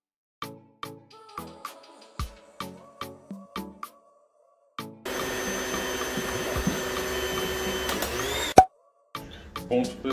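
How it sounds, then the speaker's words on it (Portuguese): An electric mixer whirs steadily through thick carrot cake batter for fit baking, starting after a run of scattered clinks and taps, then cutting off abruptly. "Depois você mexe na batedeira para não sair voando todas as farinhas em você"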